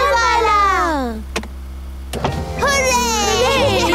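A cartoon car's motorized roof lowers at the press of a red button, a steady electric whirring hum that runs under and between animated voices, with a couple of brief clicks in the middle.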